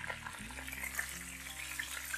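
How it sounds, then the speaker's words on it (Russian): Chicken tabaka frying in a skillet, a soft continuous sizzle and crackle with brief low shifts as the pan or lid moves. "Все, жарим минут по 10-15 с каждой стороны."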